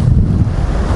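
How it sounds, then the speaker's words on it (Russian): Sea surf crashing loudly onto the pebble beach at Bytkha in central Sochi, a dense, roaring wash of breaking water and wind buffeting the microphone, with no voices. "волна накрыла сильно"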